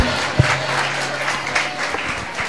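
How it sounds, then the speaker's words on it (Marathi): A church congregation clapping in praise during a worship service, a brief burst of many hands close by, with one sharp clap standing out early and voices mixed in. "टाळ्या वाजून देवाची स्तुती करा"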